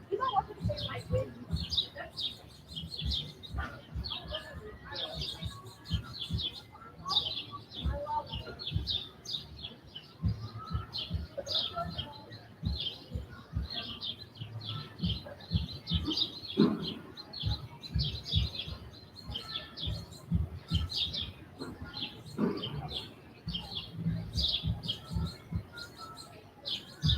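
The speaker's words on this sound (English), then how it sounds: "maybe you can hear the birds a little better" Birds chirp and tweet in quick repeated bursts outdoors on a downtown pedestrian mall, mixed with pigeon-like coos and people talking and moving about nearby.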